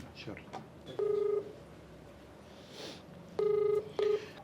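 Telephone keypad dialing tones for an outgoing call: two short bursts of steady touch-tone beeps, a longer one then a brief one, heard close and clear over quiet room noise without talk.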